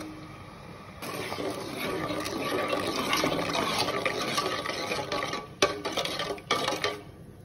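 Jaggery syrup poured into melting sugar in a pan, a loud continuous pouring and bubbling hiss starting suddenly after a quiet second, broken by a couple of sharp clinks toward the end.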